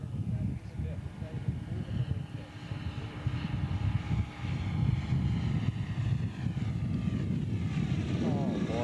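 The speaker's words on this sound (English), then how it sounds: "Andreas is going to do a nice flyby for us" Yak-11 scale model aircraft making a low flyby at a scale aircraft show, its engine a steady droning roar that swells slightly as it passes, with outdoor background noise throughout.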